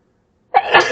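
A single sharp sneeze bursts out of silence, close and loud, then fades quickly.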